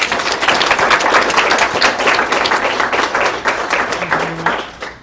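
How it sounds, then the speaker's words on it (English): A room of teachers at a Common Core math training session gives a sustained round of applause, dense and close hand clapping that holds steady for several seconds before tapering at the end. "I think she deserves a round of applause."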